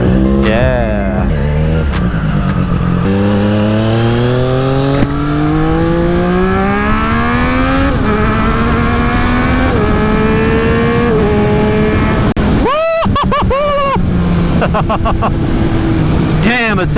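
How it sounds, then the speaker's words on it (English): A 2020 Triumph Street Triple RS with an SC Project S1 exhaust being ridden, its triple engine climbing through gears with loud, rising raspy harmonics, brief gear-change dips and a sharp rev burst near the end, with faint voices underneath. "It's got a great blend of a bassy, deep sound, as well as the right amount of raspiness that you get from a triple engine."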